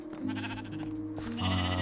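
Sheep bleat in the stables of a Minecraft survival world, with a pink sheep among the flock and a couple of overlapping, close, moderately loud calls.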